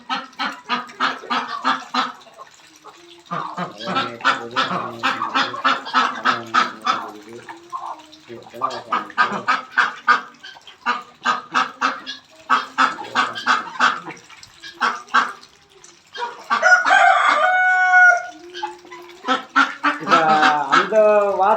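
Native ducks and chickens in a garden honk, quack and cluck in repeated loud bursts close by, calls overlapping in a busy rhythm with short pauses between flurries.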